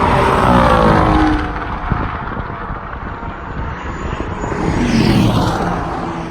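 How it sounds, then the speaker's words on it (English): Audi B9 A4 with a six-speed manual, misfiring heavily at about 100 mph on a racetrack: a loud, continuous engine roar mixed with rushing wind that swells, dips and rises again. "it made a pass at about 100 miles an hour, misfiring heavily"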